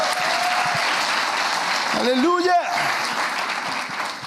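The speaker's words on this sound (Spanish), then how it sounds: "dale ese aplauso al Señor" A church congregation applauds in a dense, continuous wash of clapping, while a voice calls out briefly over it midway through.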